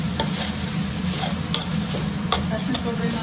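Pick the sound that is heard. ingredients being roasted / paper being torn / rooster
ingredients being roasted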